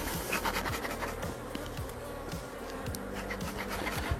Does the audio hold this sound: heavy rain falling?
no